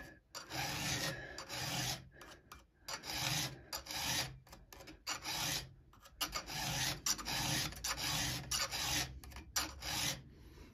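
A chainsaw chain is sharpened by hand with a file, giving repeated loud rasping strokes in a steady rhythm with short pauses between bursts, close up and with no talking.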